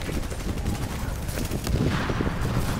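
Bursts of video game gunfire with rapid, overlapping shots, fairly loud and continuous across the moment, with a busy mix of automatic-sounding fire and impacts.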